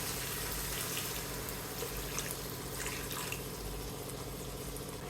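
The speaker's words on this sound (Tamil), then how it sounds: "இப்போ கொஞ்சமாக தண்ணி ஊற்றிக்கோங்க." A little water trickles into spicy prawn masala cooking in a pan, a soft, steady, continuous pour heard close and fairly faint, with no speech.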